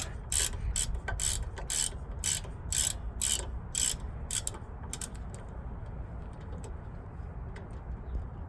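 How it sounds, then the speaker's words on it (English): A ratchet loosening the lower shock hanger bolt on a Toyota Tacoma during a 2-inch lift kit install, with several bursts of rapid clicking, then quieter mechanical handling. "remove the lower hanger shock bolt here. We'll simply just loosen this guy up."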